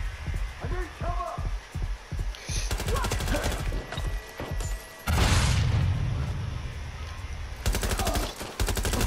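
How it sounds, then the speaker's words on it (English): Gunfire during a bank robbery getaway in the game Watch Dogs Legion: a rapid string of sharp shots in the first few seconds, then a heavy blast and later bursts of automatic fire over game music. "Shots fired. I need cover."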